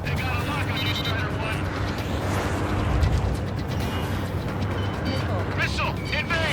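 Missile strike and explosions in the jet combat game Ace Combat 7: Skies Unknown, a dense, steady roar of engine noise and blasts with a swell around the middle, under radio voices.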